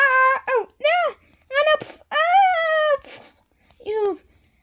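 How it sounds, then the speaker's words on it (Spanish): Cartoon dogs in an animated story giving drawn-out, wavering howls and whines, several separate cries in a row, loud and close with nothing else beneath them. "¡Atacan los perritos!"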